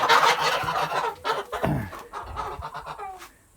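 Young Kholmogory goslings chirp and honk in short, close calls, a few squeaky cries tumbling over one another before fading.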